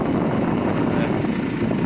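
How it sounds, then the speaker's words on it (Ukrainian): A Massey Ferguson 5711 tractor pulling an Orlan disc harrow in the field gives a loud, steady low engine drone with wind noise on the microphone, close and continuous, with no talking. "Дивимось роботу е, трактора 5711 Масей Фергюсон із е, дисковою бороною Орлан"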